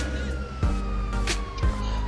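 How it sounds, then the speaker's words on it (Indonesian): Police siren in GTA 5, a steady wailing tone sustained at moderate loudness alongside low engine rumble and a couple of thumping bumps. "Suara sirine polisi oh di atas"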